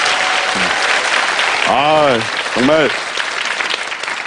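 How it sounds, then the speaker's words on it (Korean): An audience at a lecture-style talk keeps up continuous applause while someone speaks clearly over it in short, lively phrases. "일단 큰 박수 한번 보내주십시오."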